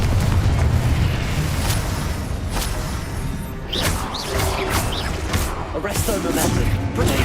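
Booming Confringo spell explosions in the game Hogwarts Legacy, dense rumbling blasts and crashes layered under continuous combat noise, with a voice speaking over the action.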